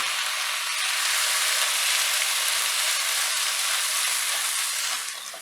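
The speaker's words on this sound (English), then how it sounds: "we'll add the curry leaves and let the curry leaves too saute with the onions" Onions, curry leaves and tomatoes sauté in a pot over high heat for prawn masala. A steady, loud, close sizzle holds throughout and fades slightly at the end, with no talk.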